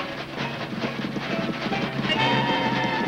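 A train rolls along its tracks with steady rumbling and rhythmic clatter, loud and close, with no voices over it.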